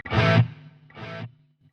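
An electric guitar through distortion on a Quad Cortex with the delay set high: two distorted chord hits, then a fainter echo trailing off as the delay repeats.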